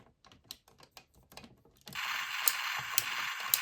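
The joint of a Transformers Dark Energon Megatron figure gives a series of light taps and ticks, then a sustained grinding, ratcheting crackle with sharp clicks, close up and without voices.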